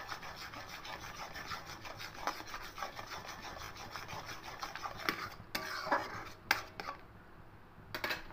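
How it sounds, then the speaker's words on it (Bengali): A hand whisk rubs and scrapes steadily through powdered milk being mixed into a coconut mixture in a bowl, soft continuous swishing with a few sharper knocks near the end, no talking. "একটু হ্যান্ড উইস্ক করে মিশিয়ে দেবো,"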